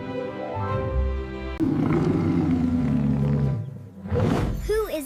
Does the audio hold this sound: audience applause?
no